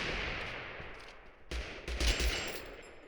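Gunshots in the video game TABG, several sharp cracks in the second half, one after another over a quiet hiss of background sound, with no one talking.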